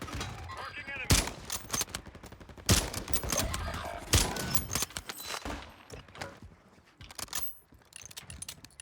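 Video game gunfire crackles in sharp, dense volleys with single loud cracks standing out, fairly close and continuous before thinning into scattered shots, with a voice talking underneath.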